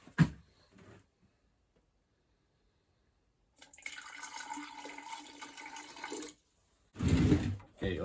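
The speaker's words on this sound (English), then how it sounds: "Guess we better put some water in there." Water splashes and pours into a homemade rock crushing machine in two bursts, a longer steady gush followed by a short loud rush, separated by near silence.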